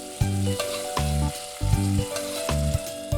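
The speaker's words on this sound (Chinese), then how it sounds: "锅子底下头还有眼油呢，就倒入肉丝翻炒，" Shredded pork stir-fried in a wok over leftover oil, with a steady close sizzle and regular rhythmic bursts of tossing and scraping, no voices.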